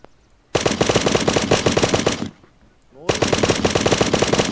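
Automatic gunfire in the survival game Unturned, two long rapid bursts of shots, loud and close, separated by a brief pause.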